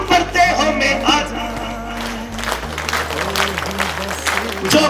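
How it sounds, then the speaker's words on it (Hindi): A crowd at a Ward 65 Wazirpur village election victory rally claps loudly with both hands, the applause mixed under a booming amplified voice and music. "दोनों हाथों से ताली बजाइए, जोरदार ताली"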